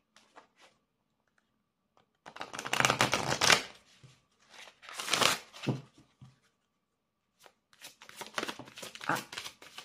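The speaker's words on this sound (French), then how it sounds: "je vais vous tirer une carte du lâcher-prise" Oracle cards are shuffled and drawn by hand, several crisp riffling bursts of card rustle with short pauses between, close and fairly quiet, with no speech over them.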